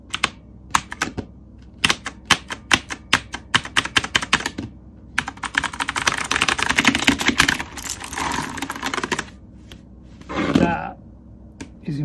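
Typing on an Amiga keyboard for a CDTV, close crisp key clicks in quick irregular bursts, then a denser patch of clatter and a brief voice near the end.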